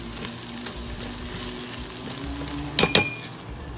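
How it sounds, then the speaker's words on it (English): Cumin seeds, onion and garlic sizzle steadily in hot oil in a pan, a close, even frying hiss with a brief louder burst of stirring near the end; no talking. "In a pan, take hot oil and saute the cumin seeds, the onion and the garlic till the onion is light brown in color"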